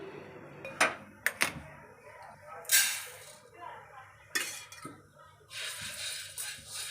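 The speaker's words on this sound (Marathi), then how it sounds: "तर मी याला थोडंसं भाजून घेते" Sago pearls dry roasting in a pan, stirred with a utensil that scrapes and clinks against the metal in scattered bursts, with a few sharp knocks and louder rustling spells near the end.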